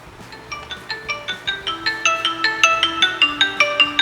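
A Xiaomi Smart Band 9 triggers a phone's ring through its find-phone feature: a clear, bright electronic ringtone of quick repeating beeps that climbs steadily in pitch and grows slightly louder, heard alone and close.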